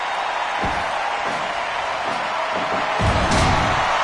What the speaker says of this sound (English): The crowd is excited as all hell for this one